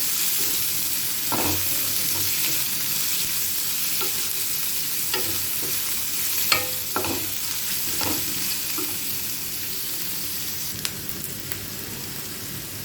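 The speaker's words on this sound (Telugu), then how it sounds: "కొద్దిగా అల్లం వెల్లుల్లి పేస్ట్ కూడా వేసుకొని బాగా ఫ్రై కావాలి బాగా వేగనివ్వాలి" Vegetables for veg fried rice stir-fry in a hot pan, a continuous close sizzle broken by scattered clinks and scrapes of a spatula tossing them.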